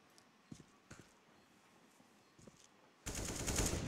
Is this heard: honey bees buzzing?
no